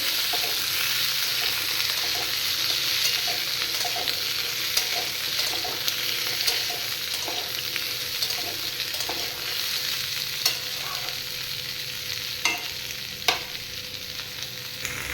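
Vegetables for shukto, a Bengali mixed-vegetable dish, sizzle in a pan while a spatula stirs them, giving a steady hiss of frying broken by scattered scraping clicks and sharper knocks.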